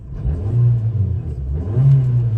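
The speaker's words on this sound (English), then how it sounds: "I'll give it a rev" The 1.3-litre engine of a 2004 Toyota Yaris automatic revs up twice, rising and falling in pitch, loud and close with a steady rumble between the revs.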